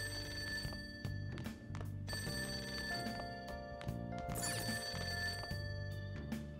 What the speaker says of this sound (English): That ringing sound isn't coming from my cell phone. I hear it coming from downstairs.